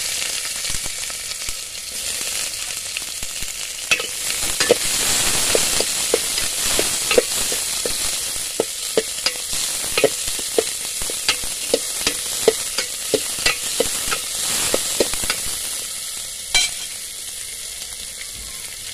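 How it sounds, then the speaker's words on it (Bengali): Chopped onions sizzle steadily in a pan alongside browned garlic, with frequent sharp scrapes and clicks of a stirring utensil throughout; no one speaks. "এখন দিয়ে দিব পেঁয়াজ কুচি"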